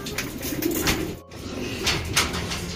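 Pigeons coo softly in a close, muffled setting while young birds are fed, low murmuring calls layered over rustling and faint background noise.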